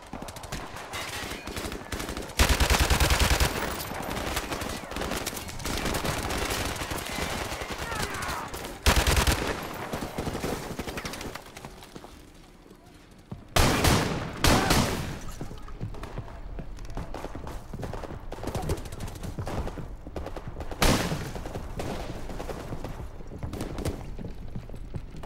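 G3 rifle gunfire in Call of Duty: Modern Warfare Remastered, heard as loud bursts of shots in a few separated volleys amid a continuous game battle backdrop.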